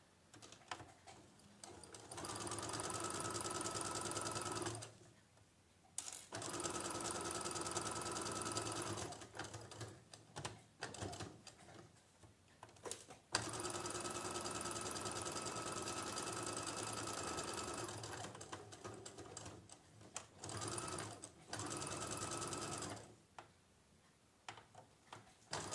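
A sewing machine stitches patchwork pieces in long steady runs of rapid mechanical clatter, stopping and restarting between seams, heard close up with no talking.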